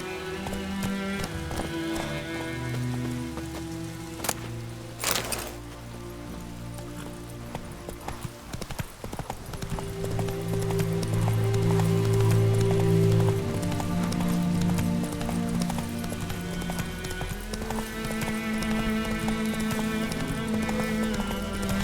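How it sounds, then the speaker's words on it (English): A horse gallops in the video game The Witcher 3: Wild Hunt, with steady rhythmic hoofbeats running throughout, layered over game music and ambient sounds, without talk. "Run, Roach."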